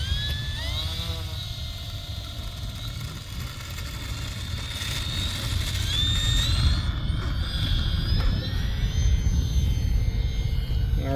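An E-flite RV7 radio-controlled model airplane takes off at dusk, its electric motor whine rising in pitch and swelling louder as it climbs, steady and fairly close, over a broad outdoor rumble with no talking.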